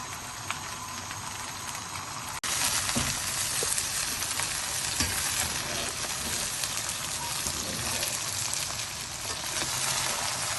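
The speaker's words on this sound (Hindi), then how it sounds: "हम इसे फ्राई कर लें।" Okra (bhindi) frying in a pan for masala bhindi, a steady dense sizzle that jumps louder a little over two seconds in as the okra goes in, then holds at an even crackling hiss to the end with no talk.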